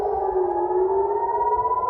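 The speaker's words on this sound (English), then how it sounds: "air raid sirens blared through Jerusalem" A steady, wailing air raid siren sounds continuously in Jerusalem, loud and sustained with a slowly shifting pitch and no voices.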